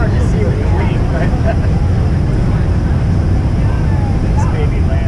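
A United Boeing 747 landing at Washington Dulles airport, heard as a loud, continuous broadband engine roar and rumble with wind noise, steady throughout. Voices are faintly present.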